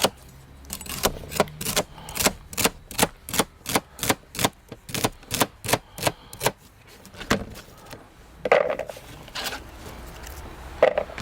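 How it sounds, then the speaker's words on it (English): Celery stalks are finely chopped with a knife on a board, a quick series of sharp, regular, close cuts that slows and turns irregular toward the end. "So, a couple of stalks of celery. Finely chopped."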